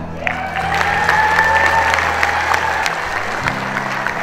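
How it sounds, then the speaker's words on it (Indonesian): A crowd at a formal gathering in Bogor Regency applauds steadily for about four seconds, with dense, sustained clapping and no pause. "Kalau mau tepuk tangan ya tepuk tangan."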